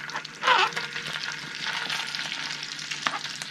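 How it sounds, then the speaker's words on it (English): Lobster, dill and garlic sizzle in butter in a skillet, a loud burst of frying as they hit the pan, then a steady crackling hiss continuing throughout. "I've got the lobster, the dill, the garlic here, ready to go into this skillet where most of the butter was."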